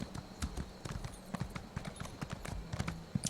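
A horse's hooves clip-clop in the video game Elder Scrolls Online, a steady brisk rhythm of hollow thuds close up with no talking.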